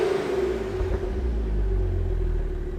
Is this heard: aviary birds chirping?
no